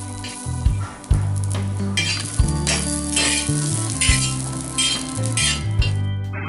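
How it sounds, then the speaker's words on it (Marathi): Garlic cloves fry in a pan for crab masala, a steady loud sizzle broken by metal utensil clinks and stirring scrapes, with no voices. "लसणाच्या पाकळ्या थोड्याशा लालसर होईपर्यंत भाजून घ्या"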